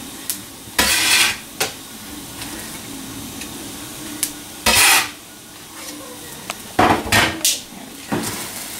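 Chopped leeks tossed into broken spaghetti toasting in a pan, with a handful of sharp scraping stirs and clanks of utensil on pan over a low background hum.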